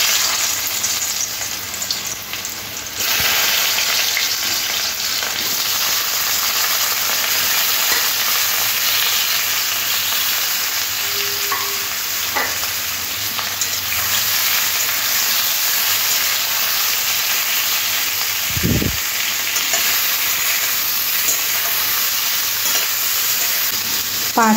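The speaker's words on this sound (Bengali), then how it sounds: "এবার এই তেলের মধ্যে এঁচোড়গুলো ভেজে নেব।" Young jackfruit pieces fry in hot oil, producing a loud, continuous close-up sizzle and hiss that persists throughout, broken only by an occasional brief stir or clink.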